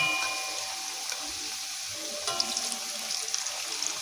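Boiled potatoes roasting in a hot pan give a soft, steady sizzle and crackle, close and fairly quiet, with occasional small pops.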